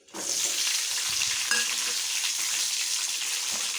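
Green chillies go into hot oil and set off an abrupt, loud sizzle that settles into a steady, close crackling fry.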